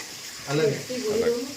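Onion and tomato frying in a pan for an Odisha-style chicken dish at a Madikeri homestay: a steady, soft sizzle runs beneath a person talking, both at moderate loudness.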